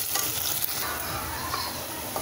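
Salted onion sautés in a pan for tomato biryani, making a dense, even sizzling hiss close by, broken only by faint scraping from stirring.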